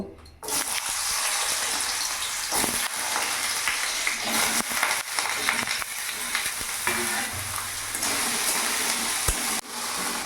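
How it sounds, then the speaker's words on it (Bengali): Small diced potatoes fry in hot oil, a loud, close, steady crackling sizzle that surges after they go in, with a few clattering knocks and scrapes of stirring and no speech. "এবার ওই তেলের মধ্যে এখানে আমি ডুমো ডুমো করে ছোট করে আলু কেটেছি আলুটা ভেজে নেব"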